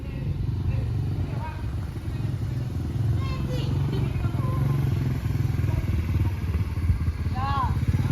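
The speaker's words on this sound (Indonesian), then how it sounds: "Militer sedang belajar motor kopling. CB." A CB motorcycle with a manual clutch is ridden by a learner nearby, its engine a steady, close chugging drone throughout while people talk over it.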